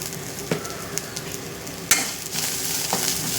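Chilies, turmeric and asafoetida sizzle in hot oil for a tempering, a steady close frying hiss punctuated by a few sharp crackles and pops.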